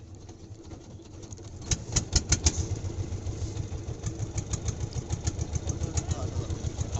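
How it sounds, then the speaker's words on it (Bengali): A boat's engine on a river crossing starts up again after stalling: a few loud coughing bursts, then a steady rapid thumping chug that carries on close by, with a faint voice early on. "যাক আবার পরে ইঞ্জিনটা চালু করে"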